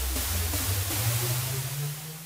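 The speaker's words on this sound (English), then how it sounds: "So the sound I made here largely has to do with the chorus effect and automating its parameters." A synthesized wash of hissing noise with a low tone that slowly rises in pitch, faint pulsing wobbles moving through it, heard alone.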